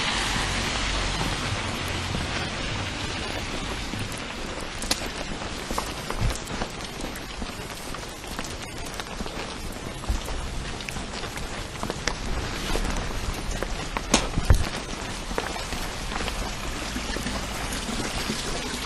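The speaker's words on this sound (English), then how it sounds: "It's rain." Steady rain falls outdoors on a grey day, a dense continuous hiss and patter with occasional louder drips and splashes, close and even throughout with no voices.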